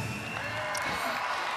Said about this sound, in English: You can see her teammates cheering her on in the crowd.